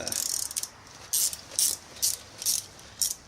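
A socket ratchet wrench turning a nut while fitting a Vectrix electric scooter, heard as about six short, crisp clicking bursts spaced roughly half a second apart, fairly close and with no voices.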